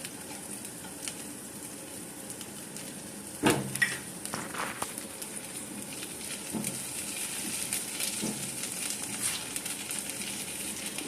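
Chopped garlic and green chili fry in a pan with a steady, crackling sizzle, joined by a few sharp clacks and scrapes of stirring partway through, the hiss growing slightly fuller toward the end.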